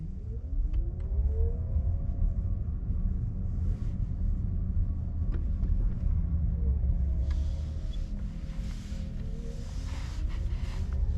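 A 2012 Fisker Karma accelerates under the gas pedal, giving a low steady rumble with a faint rising and falling electric whine and occasional light clicks, fairly quiet overall.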